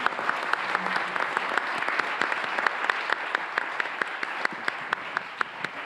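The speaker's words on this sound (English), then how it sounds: "Can we give a big hand of applause?" Applause from a seminar audience on corporate governance, a steady wash of many hands clapping with sharp individual claps standing out, moderately loud and continuous throughout without talk.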